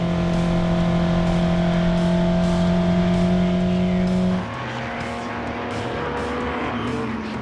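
Loud, steady engine drone of 1950–1965 Italian sports and GT cars racing at Spa, a sustained roar with strong harmonic tones that drops abruptly partway through to a rougher, lower engine noise.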